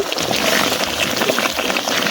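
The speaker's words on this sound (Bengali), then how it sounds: "তো আলু আর মাংসটারে আমি একদম সুন্দর করে কিন্তু কষাই নিছি এখন পানি দিয়ে দিব" Water pours into a cooking pot over potatoes and country chicken that have just been browned, village style; a steady, close rushing splash with hissing sizzle that continues evenly throughout, with no talk.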